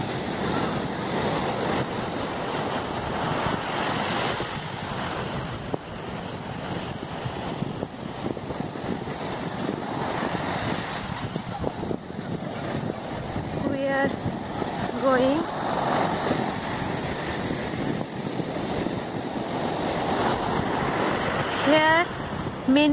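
Ocean waves wash steadily onto Jinha Beach in Ulsan, South Korea, with wind buffeting the microphone throughout and a few brief voices and sounds breaking in toward the end.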